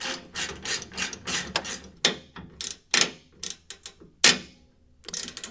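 A ratchet wrench works on truck bumper bolts during a wrecked Toyota Tacoma rebuild, giving bursts of rapid close clicking and rasping in uneven strokes separated by short pauses.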